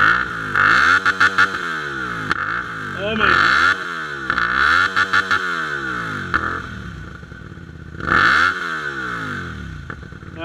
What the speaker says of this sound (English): give you the exhaust note of this custom exhaust that he has got on it